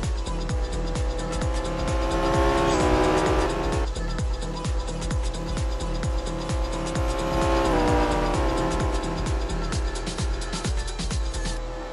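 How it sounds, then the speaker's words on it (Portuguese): Race cars circle a track, engines droning loudly and continuously with repeated rising and falling revs as they overtake, tires occasionally squealing, no talking over the steady roar. "Olha só que ultrapassagem. Conseguiu ultrapassar ali, José."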